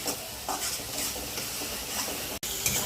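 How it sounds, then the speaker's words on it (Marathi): Potato vegetable filling stir-fried with asafoetida in a pan for an aloo matar sandwich, with steady close sizzling and repeated scraping stirs and a sharp clink near the end. "थोडंसं हिंग घालायचं, आणि भाजी चांगली परतवून घ्यायची मंडळी।"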